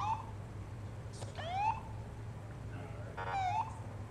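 Two short rising siren blips from a police car in the Police Simulator video game, spaced a couple of seconds apart over a steady low engine hum.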